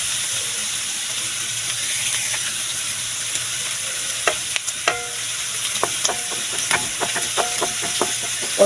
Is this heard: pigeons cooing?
no